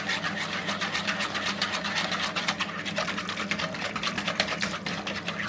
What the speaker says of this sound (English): just going to keep whisking that for a little while until it's done